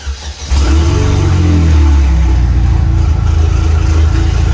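A car engine cranks and catches, then settles into a loud, steady run with a brief rise in revs, close by and with no one talking.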